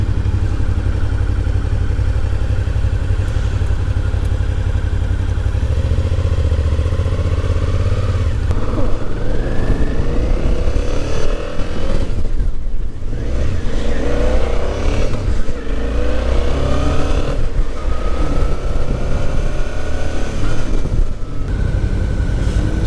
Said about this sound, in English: this is a 2024 Suzuki V Strom 650.